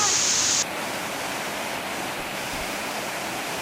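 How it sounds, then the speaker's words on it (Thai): Sap Sombun waterfall sends a steady, loud roar of rushing water throughout, with a brief higher hiss at the very start before settling into constant broadband noise. "น้ำตกแต่ละชั้นคงไม่ต้องอธิบายนะครับ"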